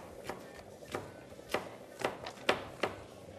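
A knife slices red peppers on a cutting board in six or seven crisp, evenly spaced chops, quiet and close.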